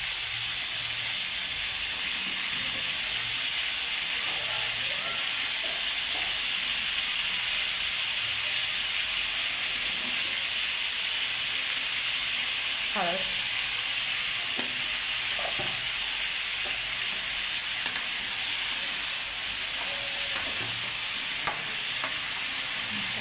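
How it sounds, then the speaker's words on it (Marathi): Eggplant sizzling and frying steadily in hot oil alongside dried bombil fish, a constant close hiss with occasional stirring scrapes and small pops, no voices. "आता वांगे टाकते आणि चांगले फ्राय होऊ द्यायचे तेलातच"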